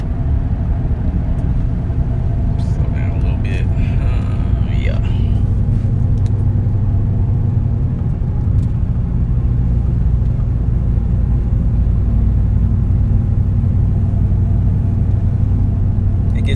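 A Nissan Titan pickup truck engine rumbles heavily and steadily close by as it accelerates, with a deep continuous drone and some rattling through the cabin.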